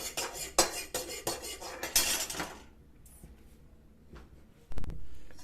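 Metal utensils scrape and clink against a plate as rice and meat are served for a Ramadan sehri meal, a quick series of sharp taps and scrapes followed by a quieter pause and one final clatter.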